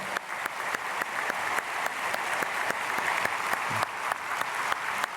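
A church congregation at an early-morning prayer service claps steadily, brisk applause sustained evenly from start to finish with individual claps standing out, no talking.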